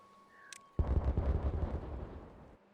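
In the video game Timberborn, a short rising electronic whoosh leads into a sudden loud explosion that rumbles and crackles for about two seconds before cutting off.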